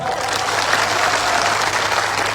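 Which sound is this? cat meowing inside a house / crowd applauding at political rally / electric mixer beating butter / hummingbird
crowd applauding at political rally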